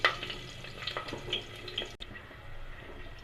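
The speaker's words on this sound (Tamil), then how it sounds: "பச்சை மிளகாய் லைட்டாக ஃப்ரை ஆகட்டும்" Slit green chillies fry lightly in oil, crackling and spitting in uneven bursts close by. The sizzle drops off abruptly midway and then continues as a quieter hiss, with no talking.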